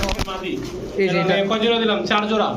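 Pigeons at a pigeon farm coo repeatedly in soft, rolling, overlapping calls close by, while people talk over them.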